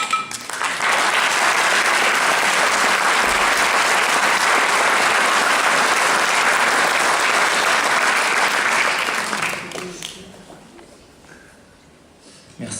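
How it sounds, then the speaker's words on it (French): Sustained audience applause at a French stage event, loud and dense for about nine seconds before fading away, with a brief burst at the very end. "vous pouvez l'applaudir"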